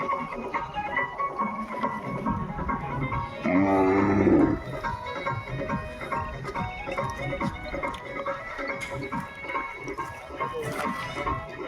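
A loud, deep bullock bellow rises for about a second in the middle of a village fair near Bijapur, set against constant crowd chatter and fairground noise.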